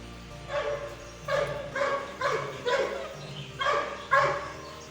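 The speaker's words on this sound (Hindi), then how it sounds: "बांध दो तो भौंकने लगता है" A tied-up dog barks repeatedly at close range, about seven sharp barks in an uneven rhythm, loud against a quiet outdoor background with no talking.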